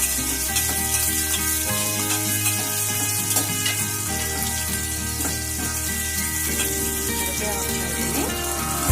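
Onions frying in a pan with cumin seeds and lentils, village-style cooking: a continuous close crackle and sizzle with stirring scrapes, over a steady low hum and a constant tonal background.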